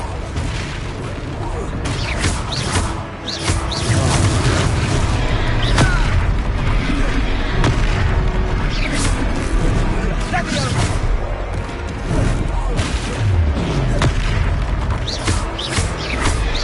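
Confringo fire-spell blasts in a Hogwarts Legacy battle: dense, loud, continuous booms and crackling bursts, mixed with combat noise and voices, without a break.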